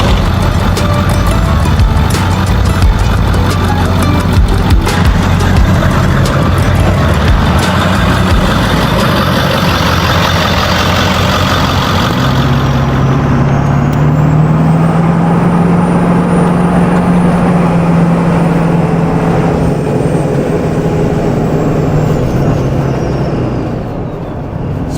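A modified car on a test drive rumbles steadily from inside the cabin, a low engine drone with road and wind noise that eases to a quieter hum near the end, with no talking.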